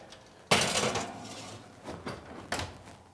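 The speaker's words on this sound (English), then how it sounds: "Put this in the oven" A pizza bubble ring pan scrapes and clanks into an oven, with a sharp metallic knock followed by a few lighter rattles and bumps nearby.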